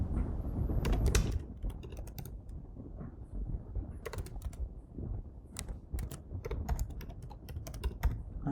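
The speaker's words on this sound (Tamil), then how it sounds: "ஸோ நான் என்னோடய மெயிலை டைப் பண்ணிக்கிறேன்." An email address being typed on a computer keyboard: rapid, uneven bursts of close keystrokes clattering alone with short pauses between them.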